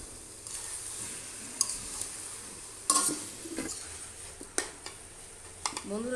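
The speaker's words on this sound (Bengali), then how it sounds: "এবার আমি মাংসটা ভালোভাবে কষিয়ে নেব, আর মাংস যত ভালো কষানো হবে ততই খেতে ভালো লাগবে" Mutton and potatoes sautéed with ground spices in a pan, a low sizzle under scattered scrapes and clinks of a stirring utensil against the pan.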